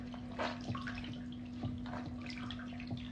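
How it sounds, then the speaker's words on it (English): A cloth dipped in water and wiped over the face to wash off makeup, with no soap, making soft, quiet wet swishes and faint dripping against a steady low hum. "I'm literally putting it in water and start washing my makeup off like this."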